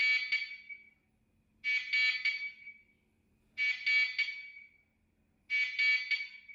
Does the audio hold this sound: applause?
no